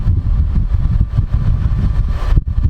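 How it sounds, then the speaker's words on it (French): A Caterpillar D6 engine in a large American motorhome running, giving a loud, close, steady low diesel throb with a rapid pulsing rhythm that dips briefly near the end. "Le moteur Caterpillar, ça fait un petit bruit sympathique."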